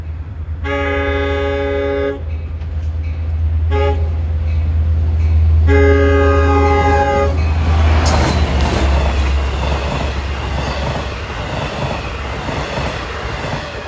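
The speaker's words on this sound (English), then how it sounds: "here comes train 18, Hunters Point Avenue to Montauk with D30AC 412" Long Island Rail Road train 18 from Hunters Point Avenue to Montauk, led by D30AC locomotive 412, rumbles past a grade crossing with a loud, deep engine drone, sustained multi-tone horn blasts in three bursts, then clattering wheels and rail noise.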